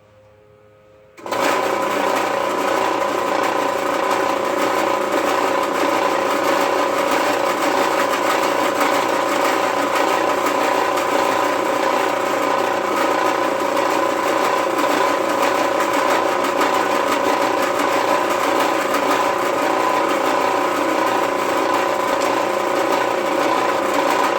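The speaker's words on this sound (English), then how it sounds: "then I'll drill the rest of the way through." A power drill whirs up abruptly and runs at a steady, loud pitch for a long stretch without pause, drilling through pieces of a cupcake stand.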